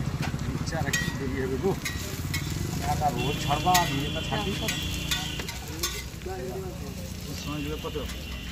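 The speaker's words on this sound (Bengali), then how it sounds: "পেঁয়াজ, গাজর আর ভাজা হচ্ছে" Onions and carrots fry for chicken pakora at an outdoor stall beside a village forest edge, with a steady sizzle and occasional stirring running beneath continuous nearby conversation.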